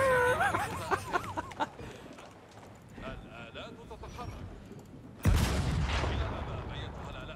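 A great bombard volley in Age of Empires IV, a loud sudden booming blast that rolls out midway after a stretch of voices and busy game noise.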